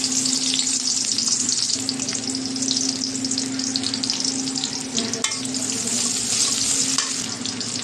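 Chopped onion sizzles steadily in hot oil in a wok, a constant loud crackle with occasional stirring scrapes and no voices.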